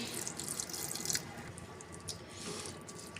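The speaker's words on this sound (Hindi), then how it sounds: "अब हम इसमें पानी ऐड करेंगे" Water added to spiced pakora batter in a bowl, a close, continuous splashing trickle of pouring liquid with small drips, heard alone.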